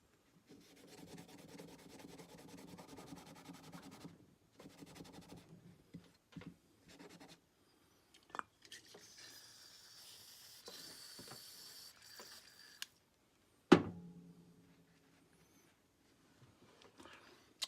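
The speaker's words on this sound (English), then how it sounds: "tearing off a piece of Scotch-Brite here to kind of get all this sap and everything off of here" A Scotch-Brite pad scrubs sticky sap off Felco pruning shears in a series of close, raspy rubbing strokes with short pauses, ending in a sharp clack.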